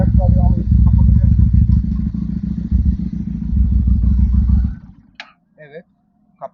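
A 2023 Regal Raptor Daytona 250 V chopper motorcycle idles nearby with a steady low rumble and light valve clatter, then is switched off and falls silent, followed by brief talk.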